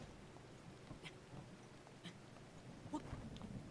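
Rain falling in the video game The Legend of Zelda: Breath of the Wild, a faint steady hiss of rainfall with a few soft spattering bursts, no talking.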